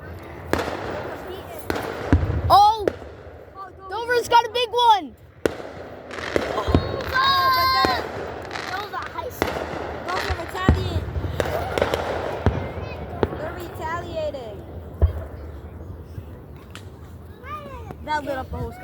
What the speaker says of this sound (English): It's a firework that lights the whole sky up.